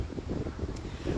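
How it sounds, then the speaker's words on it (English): Strong wind on Lošinj island buffets the microphone outdoors, producing a low, gusty rumble that rises and falls continuously at moderate loudness. "it's super, super windy"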